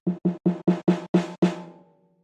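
Seven snare drum sample hits from Kontakt played through a low-pass filter, evenly spaced and dull with the top end cut, the final hit ringing out longer before fading.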